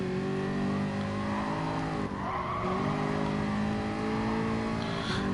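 Race cars, including a GT and a Mustang, roar continuously in a racing video game, their engine tones rising and falling with shifts as tires squeal through a corner, loud and close.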